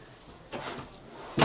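A kitchen drawer in a 2026 Salem Hemisphere 24RBHL travel trailer slides and knocks shut: two soft sliding sounds followed by a sharper close, near and alone with no talking.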